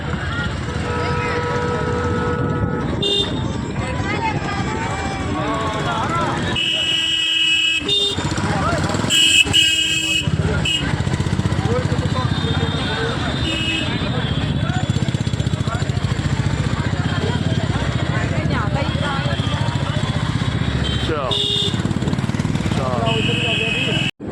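A motorcycle engine runs under road noise on a ride in Rajasthan, with horns honking now and then and voices talking over the ride.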